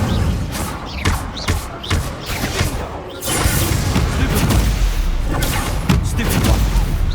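Incendio fire spells cast in the video game Hogwarts Legacy: loud, repeated fiery blasts and heavy thuds layered over dense, continuous combat noise, growing fuller and denser partway through.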